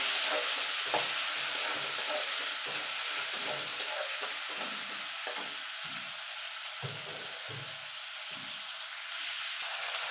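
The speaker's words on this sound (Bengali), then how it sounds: "এই তেলে চিংড়ি মাছগুলো হালকা করে ভেজে নেব" Prawns fry lightly in hot oil with a steady close sizzle and hiss, broken by intermittent stirring and scraping in the pan, the sizzle easing slightly toward the end.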